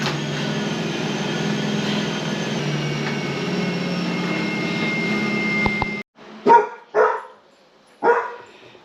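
A dog on guard duty barks three times, loud and close, after a long stretch of steady loud droning noise that cuts off just before the barks.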